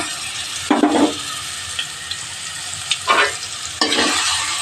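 Mustard seeds and a ground paste fry in oil over a low flame for rasam, with a steady sizzle broken by three spatula stirs that scrape through the pan.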